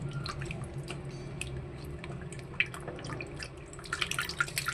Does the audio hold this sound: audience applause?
no